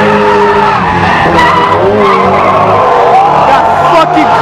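Car tires squeal loudly and continuously while a car spins donuts in the racing game Assetto Corsa, the screech wavering in pitch over a low engine roar, with a voice talking over it.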